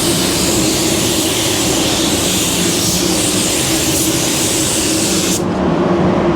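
Spray gun spraying automotive clear coat paint in a continuous loud hiss for about five seconds, cutting off abruptly near the end, close to the microphone.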